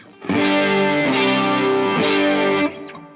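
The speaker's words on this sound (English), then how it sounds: "This side adds a boost" Electric guitar through a boost pedal adding saturation on a pedalboard, thick driven chords struck in a steady sequence of three, each ringing out loudly before cutting off.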